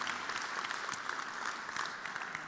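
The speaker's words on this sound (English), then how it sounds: "We can have a quick round of applause for these two as well." Conference audience in Berlin applauding two panelists, a steady wash of many hands clapping at moderate level throughout, fairly distant and even with no voices on top.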